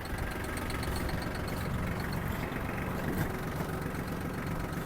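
A Kubota GL-201 tractor running with its power take-off engaged and a rotary tiller lowered, a steady, loud engine drone with a faint rhythmic knock, no talk.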